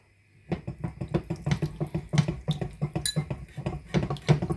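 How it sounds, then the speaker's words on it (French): Water being added to a caper sauce mixture in a pan, with a run of quick splashing and clinking stirs close up, no talking. "Et vous continuez à mouiller votre mélange."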